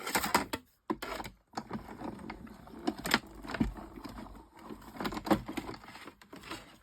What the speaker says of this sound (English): Cut out a heart.